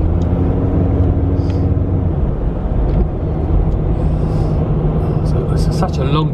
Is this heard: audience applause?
no